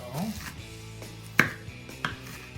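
A knife chops a sweet onion on a cutting board, a few sharp, irregular knocks standing out close and clear over quiet kitchen background, with no speech.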